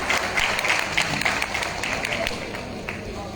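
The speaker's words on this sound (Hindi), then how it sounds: "एक बार जोरदार ताली हो जाए उनके लिए" Loud, steady audience applause fills a community organisation's gathering, dense clapping holding for several seconds with crowd voices mixed in and no clear break.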